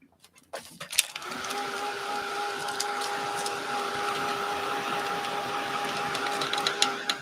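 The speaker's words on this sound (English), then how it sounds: "Get my dryer." A handheld heat or craft dryer runs steadily over a mixed-media envelope project, a continuous whirring drone with a whiny tone, starting after a few handling clicks and holding at even loudness.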